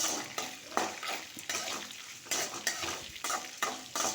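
Green chillies and dried red chillies fry in a pan for bottle gourd (lauki) chutney, a close sizzle broken by regular bursts of spatula scraping and stirring against the pan.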